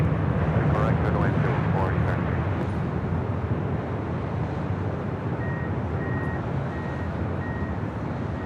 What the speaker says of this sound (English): This is Korean Air Flight 18 Super departing to Seoul on an A380.